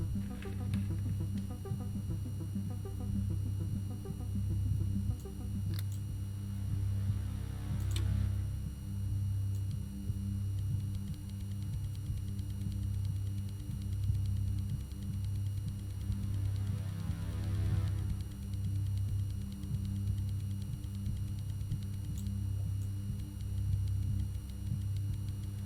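A steady sine tone at 251 hertz in the game Stories Untold, a continuous low hum with faint pulsing throughout, plus a couple of soft swelling noises, with no talking.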